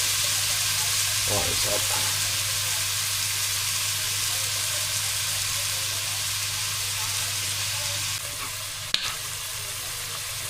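Beef mince browning in olive oil in a pan gives a steady, loud sizzle and hiss, with a few scraping stirs and a short clatter near the end and a brief spoken line.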